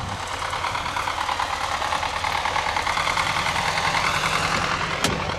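A Daewoo Lanos engine idles steadily up close, a continuous low mechanical hum with a faint knocking texture and a brief click near the end.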